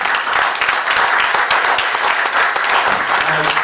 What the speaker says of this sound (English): So let's give her a nice round of applause.